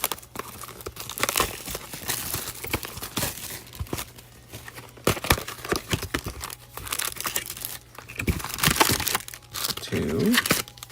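Trading card package torn open by hand without scissors, with crinkling and ripping foil wrapper bursts spread across the stretch, while a person talks intermittently nearby.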